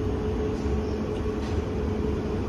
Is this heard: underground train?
yes